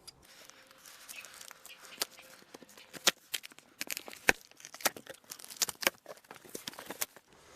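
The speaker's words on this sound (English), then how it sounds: "do be very, very careful when opening up the tape holding it all together" Sellotape being torn and peeled off a Lay-Z-Spa hot tub cardboard box, a series of sharp irregular rips and crinkles, close and moderately loud, with quiet gaps between pulls.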